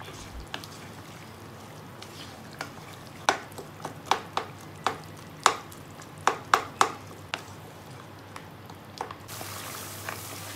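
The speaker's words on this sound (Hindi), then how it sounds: "फिर हम इसकी करेंगे भुनाई। इस तरह से भुनाई करनी है कि गोश्त में जो है टमाटर वो अच्छे से मिक्स हो जाए।" Mutton and tomatoes are stir-fried in a pot for Peshawari Charsi karahi, with a series of sharp clacks from a spoon against the pan over a low background sizzle.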